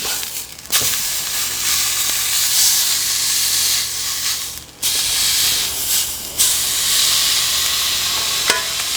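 Meat sears in a hot pan with a loud, steady sizzle that runs the whole time, broken by a few short dips and surges as the piece is flipped and turned onto each side.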